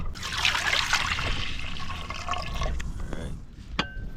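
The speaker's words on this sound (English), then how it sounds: "Milk in the pot now." Coconut milk pours into a cooking pot over an outdoor fire with a close, gurgling splash that thins to a trickle and a few drips, while someone talks nearby.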